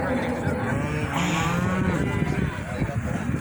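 Cattle mooing at a cattle ranch during a farm field day, several low, drawn-out calls close by over steady outdoor noise, with people talking faintly in the background.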